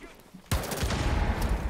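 Gunfire in the video game Rainbow Six Siege erupts suddenly after a brief quiet, a loud, dense burst of rapid shots that keeps rattling on to the end.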